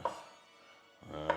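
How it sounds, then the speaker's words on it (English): Knife chopping parsley on a cutting board in a home kitchen, two short brisk blade strikes separated by a pause, close and fairly quiet, with no talking. "me chopping parsley"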